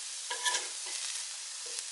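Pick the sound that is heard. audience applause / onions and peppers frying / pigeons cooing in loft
onions and peppers frying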